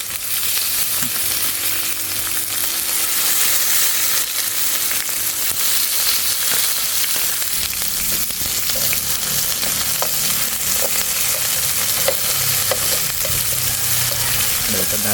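Potatoes fry in a pan with a loud, continuous sizzle and crackle that runs throughout, with occasional scraping and stirring noises mixed in near the end.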